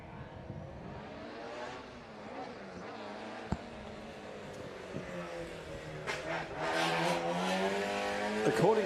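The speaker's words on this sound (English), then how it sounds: "Here's the Bruce Garland Ford Escort" A Bruce Garland Ford Escort racing at the Leyburn Sprints in Australia, its engine droning and revving steadily at a distance before swelling louder near the end, with a voice talking over it throughout.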